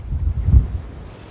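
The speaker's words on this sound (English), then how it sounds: "It's very windy here and the camera's blowing down." Strong wind blows across an allotment, buffeting the microphone with a low, rumbling roar that swells briefly and then eases, with no voices heard.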